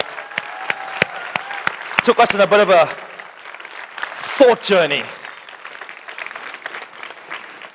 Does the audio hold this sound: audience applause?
yes